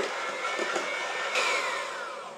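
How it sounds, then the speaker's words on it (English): An electric whisk beats sugar and vegetable oil together in a bowl for red velvet cupcake batter. A steady, close motor whine holds for the whole clip with a brief surge partway through. "Use an electric whisk"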